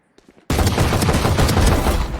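Sustained burst of pistol gunfire from the tactical shooter game Valorant, loud and dense, starting abruptly after a brief quiet moment with faint clicks and continuing without pause to the end.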